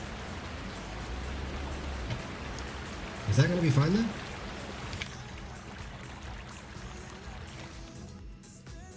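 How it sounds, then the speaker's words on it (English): Steady rain hisses throughout a Farming Simulator 19 session, loud and continuous, while someone talks briefly over it before the downpour thins toward the end. "The rain is so loud."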